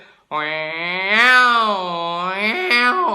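A voice imitates two tomcats fighting in the street, yowling at each other, a long drawn-out wavering wail with rising and falling pitch, close and loud.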